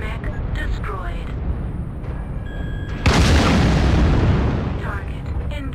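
A destroyed mech explodes in MechWarrior Online with a sudden loud boom that rolls into a rumbling, decaying roar over steady battle noise, while a voice talks underneath.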